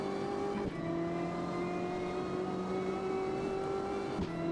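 A BMW M8 GTE race car's engine in the racing game Automobilista 2 on Laguna Seca holds a steady, loud, harmonic drone with a brief dip and gear-change blip, alone without talk.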